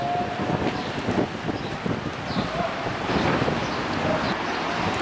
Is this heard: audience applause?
no